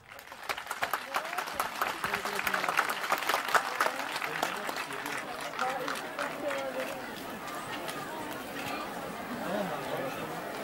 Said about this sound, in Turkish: Kendisini alkışlıyoruz.